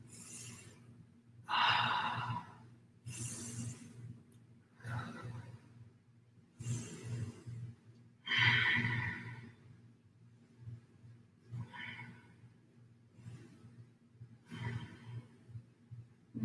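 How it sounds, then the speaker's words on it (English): Slow, steady qigong breathing, long audible exhales and inhales alternating in an even rhythm over a low constant hum, soft and close without speech. "So breathe out, breathe in."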